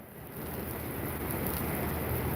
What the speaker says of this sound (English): look, the rain's picking up.